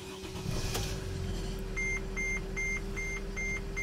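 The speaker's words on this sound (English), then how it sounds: "So I'm gonna start the engine now." A Mercedes/Dodge Sprinter van with an alternator electrical fault cranks and its engine settles into a low steady idle, followed by a repeating electronic beep pattern.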